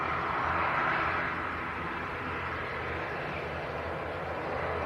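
A Jet2 Airbus A321neo airliner departs Leeds Bradford Airport for Antalya, a steady broad engine roar heard at a distance, holding even throughout with no talk over it.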